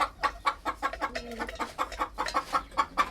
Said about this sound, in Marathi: पांढरा कोंबडा अंडे खायला लागला होता